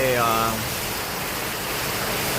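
Heavy rain pours in a steady, loud, dense hiss, with a brief voice heard over it at the very start.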